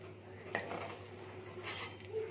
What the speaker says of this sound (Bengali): এবার এই তেলের মধ্যে আমি কিছু মশলা দিয়ে দেবো।